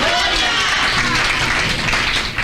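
A church congregation applauds together, a dense, steady wash of many hands clapping at close range for the whole stretch, with some voices mixed in.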